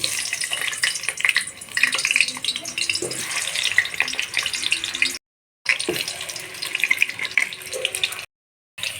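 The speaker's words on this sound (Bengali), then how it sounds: "পেঁয়াজ ভাজা তেলেতেই আলুগুলো ভেজে নেব" Potatoes frying in oil left from frying onions for chicken biryani, a steady crackling sizzle with scraping stirs, broken by two short silent gaps.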